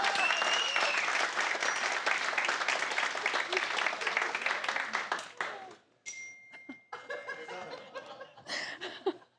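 A comedy show audience breaks into sustained applause mixed with chuckles, the clapping fading after a few seconds into scattered laughter and murmurs.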